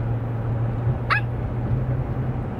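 A young boy imitates a puppy with one short, high, yelping bark, brief and clear over a steady low hum in a quiet indoor room.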